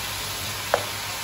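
Masala with ginger-garlic paste and salt sizzles in a pan, a steady soft frying hiss throughout, with a single brief clink of a utensil midway.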